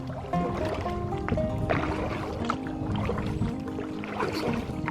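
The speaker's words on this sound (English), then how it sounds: "Right now I'm paddling against the tide." A kayak being paddled against an outgoing tide on the Ashley River in Summerville, with continuous close water swishing and gurgling from the strokes and hull under steady outdoor ambience.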